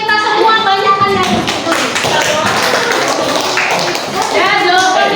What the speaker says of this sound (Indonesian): Hari ini tepuk tangan untuk kita semua